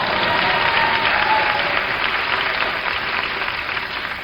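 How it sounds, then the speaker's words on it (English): An audience applauds during a talk, a dense and fairly steady patter of clapping that gently tapers off over a few seconds, heard through a muffled, band-limited recording. "You can applaud, sure."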